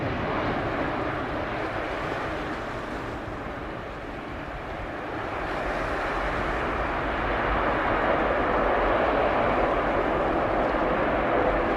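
Airliner at MBJ airport in Montego Bay, a steady broad engine roar holding throughout and swelling slightly louder toward the end, heard from an airport vantage with no talk.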